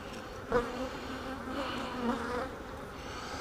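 Honey bees hum in a continuous, close, droning buzz around an open hive being inspected for its queen and brood space, with no voices over it.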